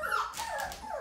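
A five-week-old white golden retriever puppy whimpers and yips in rising and falling high-pitched cries, close and continuous over about a second.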